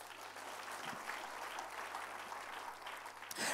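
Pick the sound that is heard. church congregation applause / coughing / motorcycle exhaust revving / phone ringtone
church congregation applause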